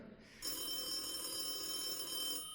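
A telephone bell rings steadily on a musical-theater stage, a bright continuous metallic trill that starts abruptly and runs for about two seconds before cutting off, heard alone with no talk over it.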